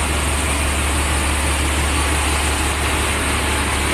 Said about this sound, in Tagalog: Napakalaki po ng mga makina ng barko.